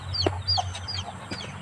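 Chickens clucking close by in a yard, several short, sharp calls spaced over a couple of seconds with no talking.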